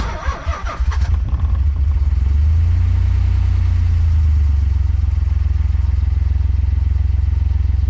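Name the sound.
turbo car engine with loud lifters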